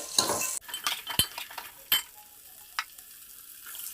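Onions sizzle in a hot pan while a spoon stirs and scrapes against the metal in sharp clinks, the frying hiss fading to a quieter crackle.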